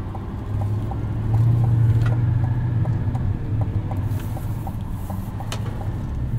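A 2024 Chevrolet Silverado 2500HD ZR2's Duramax diesel engine rumbles steadily from inside the cab while towing, a deep low drone that swells briefly then settles, with faint ticking clicks.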